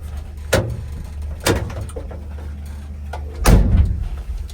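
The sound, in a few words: pickup truck door closing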